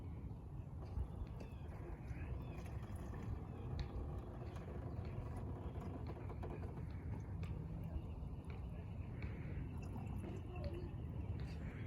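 Liquid pouring from a pint container into a quart container, a steady wet trickle and splash running continuously, fairly quiet, over a low background hum.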